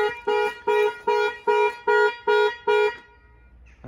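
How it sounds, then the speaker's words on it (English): Alarm on a locked Nissan Qashqai J11 sounds seven evenly spaced loud tonal beeps in a steady rhythm, then cuts off into quiet background. "I didn't knew that the Qashqai had this kind of alarm"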